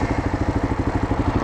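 Kawasaki KLR650 single-cylinder motorcycle engine running with its clutch slipping, a close, steady low thumping rhythm of rapid pulses with a rough clattering edge, no voices.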